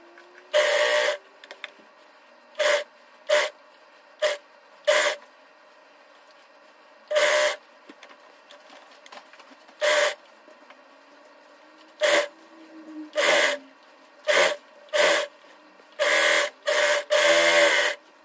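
Sewing machine stitching a suede knit pajama top, heard in repeated short bursts of whirring, each a second or so long, with quiet pauses between runs and no talking.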